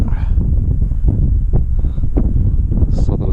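Southerly wind blowing across a glider flying field, a steady loud rushing buffet on the microphone with a few gustier swells throughout.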